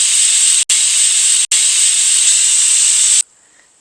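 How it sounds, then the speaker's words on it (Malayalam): A pressure cooker on medium flame cooking Kerala-style beef lets out a loud, continuous jet of steam hiss, broken by two brief gaps before it cuts off abruptly, leaving near silence. "അപ്പോൾ ഞാൻ പ്രഷർ കുക്ക് ചെയ്യാൻ പോവാണ്."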